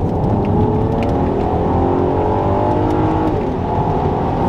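A 2006 Audi A3 3.2 V6 Quattro S line pulls hard in second gear with paddle shifts, its engine note droning loud and steady from inside the cabin, rising gradually with no pauses.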